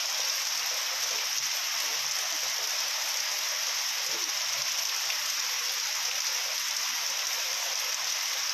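Heavy morning rain pours down in Baharampur, a steady, even hiss of dense drops filling the whole stretch without a break, fairly faint and distant, with no voices.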